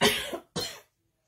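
Two quick, harsh coughs in a row from a person with COVID, close and loud, followed by silence.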